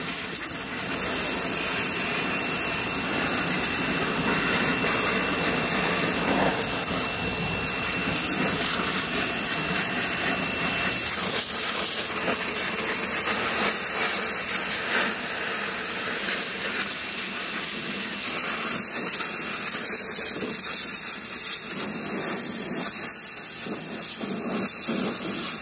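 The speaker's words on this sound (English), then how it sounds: "This thing, the pressure washer is something serious." A pressure washer sprays chrome 22-inch rims with a steady, loud hiss of water that runs without a break, rising and falling slightly as the jet moves across the wheels.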